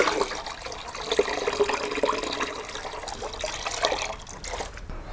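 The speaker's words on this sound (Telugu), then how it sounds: "ఈ 5 లీటర్ల నీటిని ఖాళీ బకెట్లో పోసుకోవాలను." Water is poured from a 5-litre container into an empty bucket, producing a steady splashing gush that runs for several seconds and fades slightly at the end.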